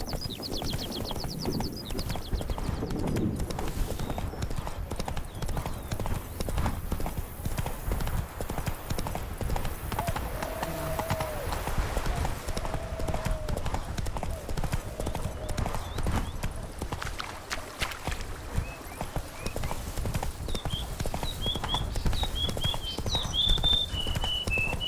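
Roach, a horse in the video game Witcher 3, gallops in steady rapid hoofbeats for the whole stretch, close and loud, with a faint whinny and a few bird chirps near the end.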